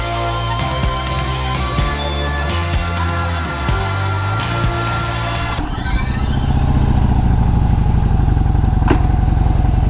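Harley-Davidson Dyna motorcycle on the road, engine revving with gear changes and a rising throaty roar, then steady loud riding with wind rush, close and continuous.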